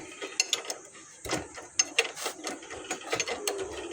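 A motorcycle chain and sprocket are slowly tightened, giving rapid metallic ratcheting clicks and clanks in an uneven rhythm, close and fairly loud, with no talk over them.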